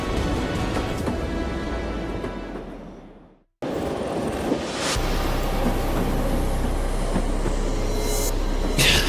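A train runs with a loud steady rumble and rattle of its cars, broken by a brief sudden drop to silence before the heavy running noise resumes.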